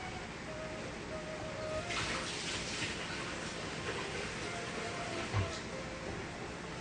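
Hands being washed under a running kitchen tap while cooking chana masala: a soft, steady hiss of flowing water at low level with a few faint splashes and knocks.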